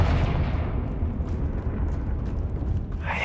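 Fire-blast spell explosion from Confringo in Hogwarts Legacy: a dense, rumbling low-frequency roar that sustains loudly throughout, with crackling debris and a brighter burst near the end, no speech.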